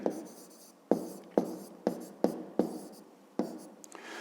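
Pen writing out a fifth-grade math solution, with repeated sharp scratchy strokes in short bursts, close and fairly quiet, with no voices.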